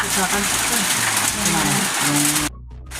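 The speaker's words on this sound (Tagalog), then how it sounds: "Ang lakas ng ulan dito ngayong hapon" Heavy afternoon rain pours down in a steady, hissing wash while voices talk over it nearby, then the sound cuts off abruptly near the end.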